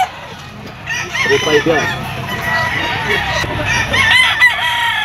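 Roosters crow and hens cluck repeatedly among white-legged fighting cocks and stags at a Grotto pet tiangge market, close and loud, with someone talking over the birds and the bustle of the market.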